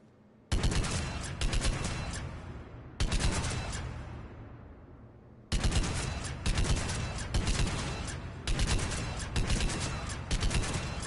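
Weapon fire in Mass Effect 3 comes in four loud bursts of rapid shots, each separated by a short pause, with no talking.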